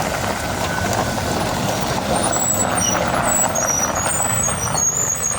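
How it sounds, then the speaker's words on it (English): A front-loading Jefferson County garbage truck rumbles loudly at a landfill, its engine a dense, steady roar with faint high reversing beeps and brake hiss mixed in. "Garbage truck."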